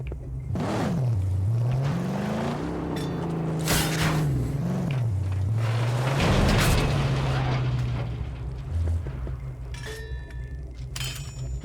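Car engine in the video game Mad Max revs and growls, pitch sweeping up and down repeatedly over clanks and rumbling impacts, loud and continuous throughout.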